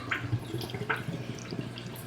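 A SICCE Whale 500 aquarium canister filter fills with water, producing soft, close gurgling and bubbling with a few distinct drips and plops over a low steady background.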